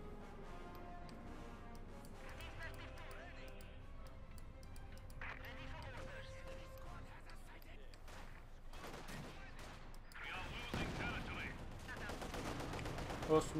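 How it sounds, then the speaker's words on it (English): Field gun fire and gunfire in the strategy video game Company of Heroes 2, faint scattered shots and a few booms in a busy battle mix, partly under a commentator's voice. "Osttruppen taking a hit from the field gun."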